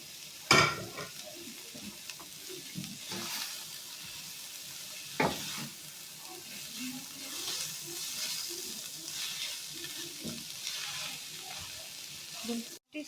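Chicken stir-fried with colourful vegetables for spicy chicken chowmein, a steady sizzle with scraping stirs and a few sharp clanks from the pan, loud and close, no talk.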